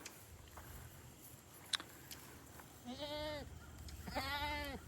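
Goats on a farm grazing a blueberry patch paddock, two distinct bleats in the second half rising over quiet outdoor background with faint scattered clicks.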